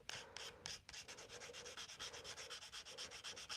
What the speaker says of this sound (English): just hand sand some with the grain with each grit that you do.